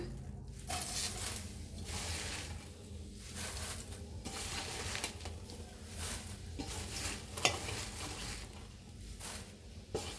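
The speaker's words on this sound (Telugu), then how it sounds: "కరేపాకు ఇట్లా వేయించుకుందాం తడంతా వెళ్ళిందాక వేయించుకుందాం" Washed, dried curry leaves fry in a pan for karivepaku podi, a continuous soft sizzle broken by repeated scraping stirs every second or so, close and fairly quiet with no talking.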